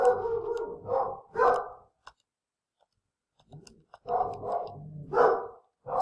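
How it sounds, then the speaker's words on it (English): Several dogs bark excitedly in loud bursts, with a few seconds of near silence before another round of barking breaks out. "school just got out, so my dogs are going insane."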